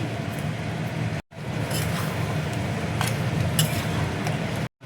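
A lid is set onto a cooking pot of spiced paneer dish over the stove, giving a few light metallic clinks over a steady sizzling hiss.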